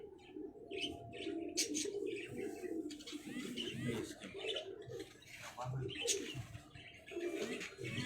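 Sialkoti pigeons coo and chirp around a coop while people talk close by, with low rumbling background noise.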